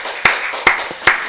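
Clapping at a Wednesday church worship service: three sharp, evenly spaced claps about 0.4 seconds apart, fairly close and crisp, with no talk in between.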